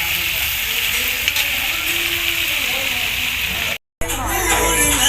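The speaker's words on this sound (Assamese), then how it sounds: "এই হাঁহৰ মাংস বহাই দিলে তেলত" Duck meat sizzles in hot oil in a pan, a loud continuous hiss that cuts out briefly near the end and then resumes.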